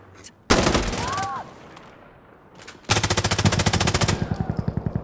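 Gunfire in the video game Insurgency: Sandstorm, with a loud opening burst followed by a long rapid volley of distinct, evenly spaced automatic shots.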